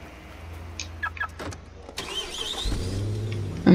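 A car engine starts in the Watch Dogs game, with a few clicks and a door-like thud, then a starter crank and the engine catching into a low idle that grows louder.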